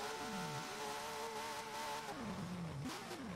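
A V12 car engine roars in Forza Horizon 4 during an online 4x4 drag race. It revs steadily and fairly quietly, its pitch dipping and climbing through gear changes, with no talk over it.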